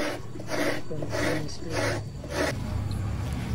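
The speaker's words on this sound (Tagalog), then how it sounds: "tinuturo ng aking kapatid kung paano hahawakan yung baon ng nyog at paano ito kakayurin" Coconut meat being scraped from the shell with a grater while cooking Filipino dishes, several rhythmic rasping strokes up close, fairly loud, followed by a quieter stretch.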